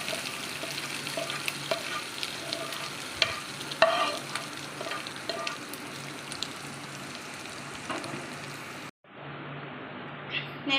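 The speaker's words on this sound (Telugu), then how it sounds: "ఇంకా మనం దీంట్లో పోపు వేసేసుకుందామండి పచ్చడి." Tempering of asafoetida and curry leaves sizzles in hot oil in a pan for ivy gourd chutney, a steady crackling fry with occasional stirring scrapes that cuts off abruptly near the end.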